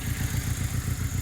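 A close Saab 9-3 Aero engine with a compression issue idles with a low, rapid, lumpy exhaust pulse, smoke coming from the exhaust, steady throughout the short stretch.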